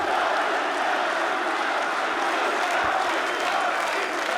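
A packed esports arena crowd at a PGL Cluj-Napoca 2025 semifinal roars continuously, a dense, loud wall of cheering and shouting with no breaks.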